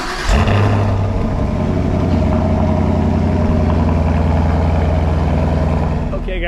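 A naturally aspirated 6.2-liter Chevrolet Camaro V8 idles with a steady, throaty exhaust rumble, close and loud throughout.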